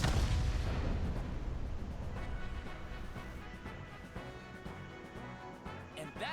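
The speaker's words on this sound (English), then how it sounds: "the burning fuse inside the body reaches the explosives" A loud, deep blast of explosives detonating inside a body in the video game AI: The Somnium Files, booming at once and then rolling into a long, rumbling decay with crackling debris.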